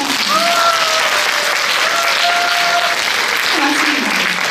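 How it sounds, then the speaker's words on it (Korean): A concert audience claps loudly and continuously at a traditional music performance, a dense sustained applause with a few voices calling out over it. "동의하시면 박수 한번 부탁드립니다."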